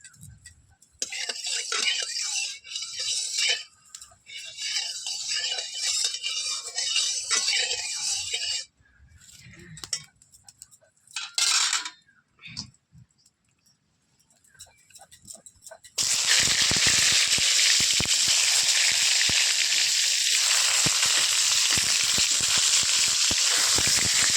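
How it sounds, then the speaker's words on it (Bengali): Pointed gourd (potol) frying one by one in hot mustard oil in a wok: after a stretch of kitchen noise and intermittent crackle, a loud, steady hissing sizzle takes over and holds close up, with no talking. "এবার আমি কড়াইতে সর্ষের তেল দিয়ে দেব, দিয়ে পটলগুলোকে একে একে ভেজে নেব।"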